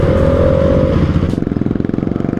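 A Yamaha R15 V4 sport motorcycle rides on a road, its engine loud and close with a steady drone that shifts into a rapid pulsing putter, with a brief whine early on and no talk.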